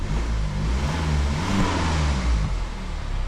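A BMW X1 engine runs steadily after an oil and filter change, a loud, close rumbling drone with a slight rise and fall in pitch and no talking.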